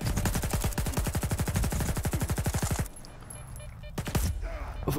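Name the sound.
gunfire in the video game S.T.A.L.K.E.R. 2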